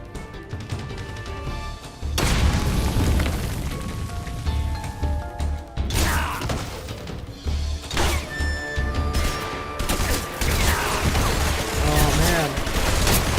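Grenade explosions and bursts of gunfire in a Metal Gear video game, loud crashing blasts at about two, six and ten seconds with rapid shots and clatter between them, under background game sound.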